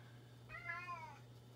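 One drawn-out meow from a cat, fairly faint and alone over a low steady hum in a quiet room.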